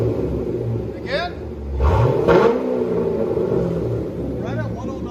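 2005 Chevy Corvette with a 6.0L V8 and dual straight-pipe exhaust, a deep idle rumble broken by a short sharp rev that swells and drops back, with people talking nearby.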